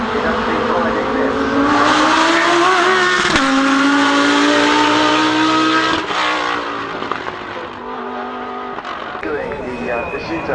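A Ford race car drives at the Goodwood Festival of Speed 2024. Its loud, strained engine climbs and falls through revs and gear changes as it passes nearby, with a commentator's voice running over it.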